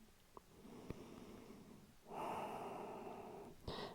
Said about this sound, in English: Let's just take a few breaths here.